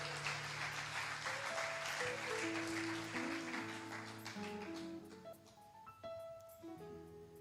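A church congregation claps and applauds during a worship service, steady applause mixed with sustained organ or keyboard tones that gradually thin out as the clapping fades.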